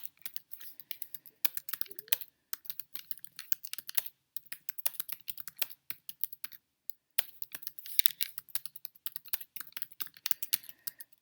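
Steady typing on a computer keyboard, rapid clustered keystrokes with brief pauses between bursts, close and fairly quiet, no voices.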